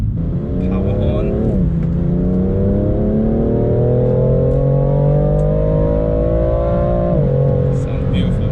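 A BMW M4 Competition engine revs and holds high, its tone climbing steadily before dropping back, loud and close, with faint voices underneath.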